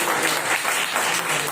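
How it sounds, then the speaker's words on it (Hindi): Audience applause at a transport union gathering, dense and steady clapping filling the whole moment without a break. "उनका तालियों के साथ स्वागत करें"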